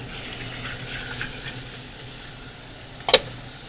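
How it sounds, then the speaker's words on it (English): Beef going into a pot and starting to brown for a ginger beef stew, a steady close sizzle with faint clattering that ends in one sharp metallic knock near the end, and no talking. "And now we'll add our beef to this."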